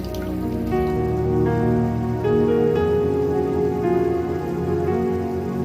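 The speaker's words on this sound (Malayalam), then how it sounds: "നന്നാ തിളച്ചു വന്നിട്ടുണ്ട്" Water comes to a rolling boil in a pot before semolina goes in, a steady close patter of bubbling under a constant tonal hum.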